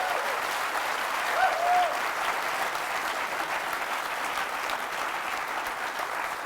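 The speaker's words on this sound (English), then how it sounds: "Give him a round of applause" Steady applause from a studio audience welcoming a podcast guest, dense and continuous throughout, with a brief voice cutting in near the start.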